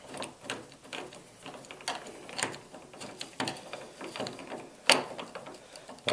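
A screwdriver ratchets and clicks while tightening screws on a door knob during installation, giving a quick irregular string of close mechanical ticks with one sharper click partway through.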